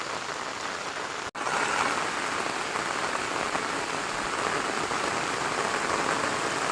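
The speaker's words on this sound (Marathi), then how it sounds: "पाऊस बघा किती लागतोय," Heavy rain pours steadily in a Konkan village, a dense continuous hiss at close range with one brief dropout near the start.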